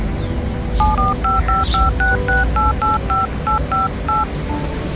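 A phone number is keyed in on a telephone, a quick run of about fifteen paired dialing tones at an uneven, steady pace over a low background hum.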